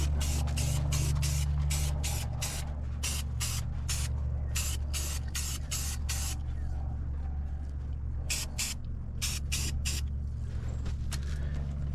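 A brand new spray paint can hisses out gray paint in repeated short bursts, close and loud, each spray a sharp airy blast separated by brief gaps, over a constant low engine or machinery rumble.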